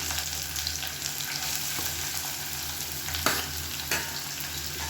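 Finely chopped onions sizzle in hot oil with cumin seeds for a chicken curry, a steady close frying hiss broken by a few soft clinks of stirring, with no talking.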